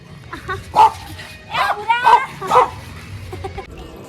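A dog by a roadside barks a few times in short, close yips, with quiet background noise between the barks.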